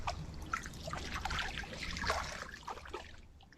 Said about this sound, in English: this one starts with water